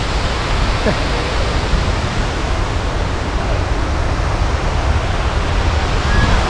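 Ripple Falls in Munnar, Idukki, pours in a steady, close, full-bodied roar of rushing water, a dense unbroken wash of noise that holds evenly from start to finish.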